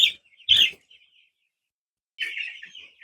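Baby chicks in a farm brooder give a few high, sharp peeps: two quick chirps close together, a pause, then a longer trailing peep, loud and near with no talking.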